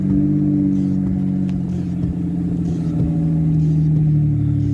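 A 2001 Ford Escape XLT with the 3.0 engine idles after starting, producing a loud, steady low rumble with a slight rise and fall, close and continuous.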